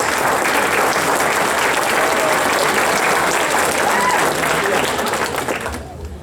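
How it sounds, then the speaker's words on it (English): Wedding guests give a loud, dense round of applause for the best men, John and Max, sustained and close for about six seconds before tapering off. "Another round of applause, please, for the best men,"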